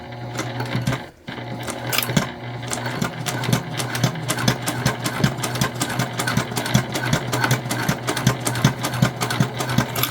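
A high shank sewing machine fitted with a tank foot stitches a beginner wristlet, whirring in a steady close mechanical rhythm with a brief stop near the start before running on continuously.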